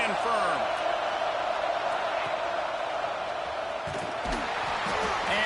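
A football stadium crowd roaring for the home defense during a red zone stand, a steady wall of dense cheering with scattered whoops and claps, under a commentator talking throughout.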